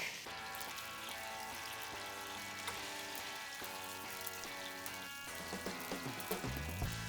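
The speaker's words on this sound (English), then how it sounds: "now I can go ahead and drop my shallots in" Shallots sizzling in a pan for turkey leg confit, a faint steady crackle under background music, with a few soft knocks near the end.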